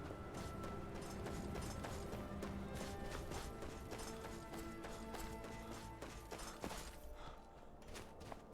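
Horse galloping in the video game Skyrim, a steady rapid clip-clop of hooves mixed with game music and ambient effects throughout, no voices.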